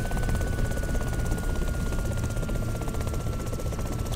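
A helicopter lands in the DayZ Epoch video game, its rotor and engine making a loud, constant, close whirring drone with rapid blade chop throughout.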